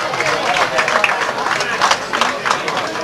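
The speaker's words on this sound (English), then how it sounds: "give a round of applause to the Ennisnag step dancers" Audience applause for Ennisnag step dancers at a 1998 school anniversary celebration: dense, close clapping with a few louder peaks, continuous throughout.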